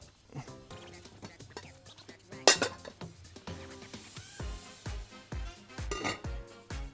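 Kitchen clatter of plates and dishes being handled while a couscous steamer is readied, with a sharp ceramic clink, scattered knocks and a rhythmic series of thuds, under spoken talk.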